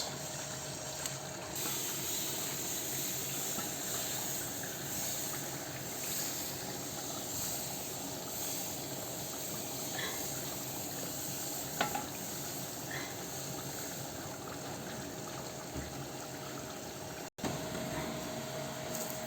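Thin batter of flour and water for chita ruti (jali pitha) frying in a lightly oiled pan, heard as a steady, even sizzle that runs throughout with a few faint clicks and no talking.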